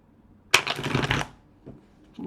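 Tarot cards are riffled in a single quick, crisp shuffle lasting under a second, close and clear, followed by near silence and a faint later rustle.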